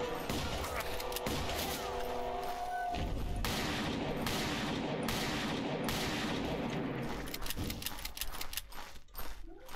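Rapid bursts of gunfire in the Western shooter game Call of Juarez, repeated sharp cracks in quick volleys over a dense, busy game soundscape with a voice speaking at times.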